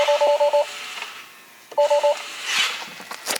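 Repeated electronic seatbelt warning chimes in a Tesla Model S sound in quick beeping bursts, while soft rhythmic clicking of turn signals ticks in the background of a cabin hum.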